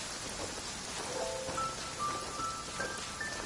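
Heavy downpour in the video game Genshin Impact, a dense, steady hiss of rain pattering on surfaces, with faint tonal chimes rising briefly over it.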